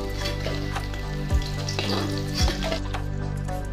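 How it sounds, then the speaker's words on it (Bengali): Fish frying in oil in a pan gives a loud, continuous sizzle and crackle, with a couple of low thumps and clatters from turning the pieces. "মাছগুলো দিয়ে উল্টে পাল্টে একটু লাল করে মাছগুলোকে ভেজে নিতে হবে।"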